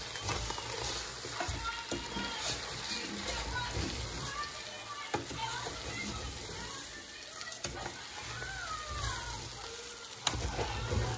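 Food for Kenyan pilau fries and sizzles steadily in a pan, starting to burn, with a constant crackling hiss, and occasional clinks of stirring cut through it.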